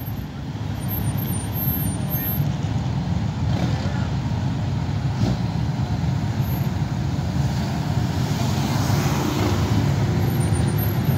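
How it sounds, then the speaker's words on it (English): Traffic from a parade of about 100 cars and 20 motorcycles in New Haven, Connecticut, passing as a constant dense road rumble with engines droning close by and no break in the flow. "Surprise, about 100 cars and about 20 motorcycles."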